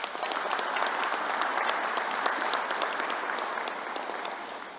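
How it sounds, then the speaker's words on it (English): Audience applause at a New York governor's news conference, a dense, sustained round of clapping from a crowd, steady and even before gradually tapering slightly at the end. "Let's give them another round of applause."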